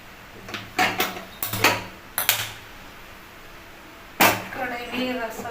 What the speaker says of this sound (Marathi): आता मी कढई ठेवते.